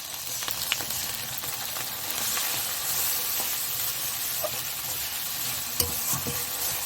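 Ginger and cumin paste sizzles in hot oil as it is stirred in a pan for rohu fish kalia, a steady close frying hiss with occasional scraping clicks of the spoon.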